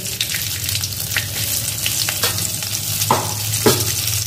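Two dried red chillies and panch phoron fry in hot oil in a pan, a loud continuous sizzle broken by sharp clicks and scrapes of stirring, with no talking.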